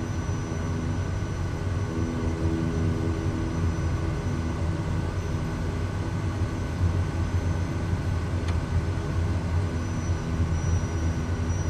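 Steady, loud airplane engine roar from a flight simulator game, Microsoft Flight Simulator 2020, during takeoff, droning continuously with a constant low hum and no voices.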